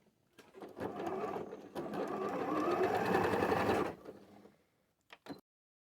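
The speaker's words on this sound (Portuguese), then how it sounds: "vou passar uma costura na diagonal, vindo aqui, ó, dessa ponta e vindo até aqui embaixo. Em ponto simples, ponto reto, em tamanho bem miudinho." A sewing machine sews a diagonal seam in a small straight stitch, running in one continuous close whirring burst of about three seconds after a few brief handling sounds, then stopping. A couple of short clicks follow.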